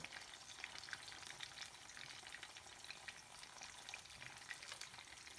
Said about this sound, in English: tortillas like that in the oil, it caramelizes somehow the sauce, and it tastes so good.